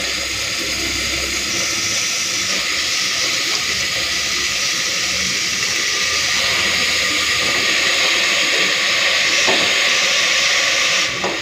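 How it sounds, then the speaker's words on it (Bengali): Banana flower, small-cut potatoes and raw chickpeas frying with spices in a pan, a loud steady sizzling hiss that runs without a break for about eleven seconds, close and without talk. "তো সব কিছু দিয়ে দিয়েছি। এরপরে মশলার সাথে ভালো করে কষে নেবো।"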